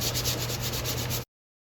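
Sandpaper rubbed over a hickory hatchet handle, a close, steady rasping scrape that runs continuously for about a second before cutting off abruptly.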